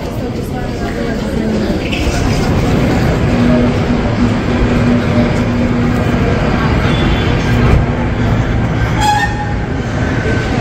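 A train passes near Zurich airport with a loud, continuous rumble and rolling wheel noise, a brief horn-like tone and clatter partway through, heard close by.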